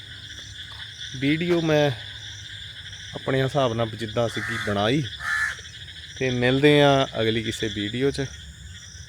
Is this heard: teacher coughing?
no